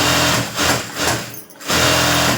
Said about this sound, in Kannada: ಆ ಕಡೆ ನಾಲ್ಕು ಸ್ಟಿಚ್ಚು ಈ ಕಡೆ ನಾಲ್ಕು ಸ್ಟಿಚ್ಚು ಹಾಕ್ಕೊಂಡು ಬಂದೆ